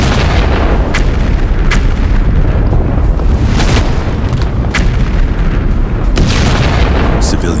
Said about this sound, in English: Below, valley towns tremble under bombs.